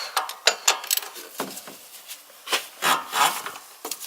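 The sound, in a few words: ratchet with 17mm socket loosening Polaris RZR oil filter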